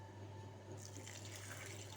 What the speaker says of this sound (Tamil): இப்போ இதில் தண்ணி சேர்க்கலாம்.